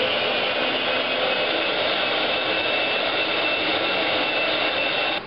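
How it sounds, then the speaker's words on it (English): A food processor blends hummus with a continuous, even motor whir that stays loud and unchanged throughout before cutting off abruptly at the end, with no talking. "get the old food processor lid on. Go ahead and turn it on, and we're going to leave it on for about 2 minutes."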